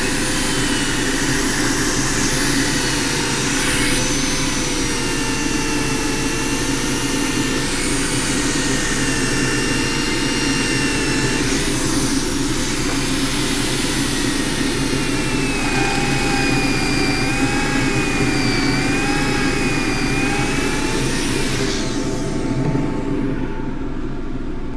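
A wood lathe turning a chunky tripod dish at 2400 rpm, a steady loud mechanical drone with a whining tone that holds throughout and fades near the end.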